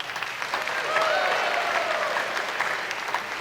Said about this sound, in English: round of applause for Doc